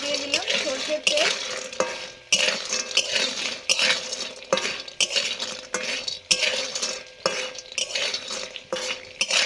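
Lentil bori fry in mustard oil in a kadai, sizzling beneath repeated scrapes and clinks of a spatula against the pan, a loud rhythmic stirring that comes in bursts.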